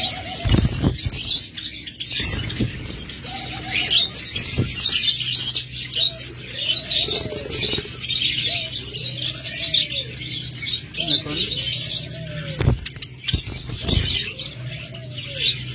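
Caged pet pigeons and doves, Java sparrows among them, coo in repeated rising-falling calls while small birds chirp busily above, with occasional wing flutters and clatters throughout.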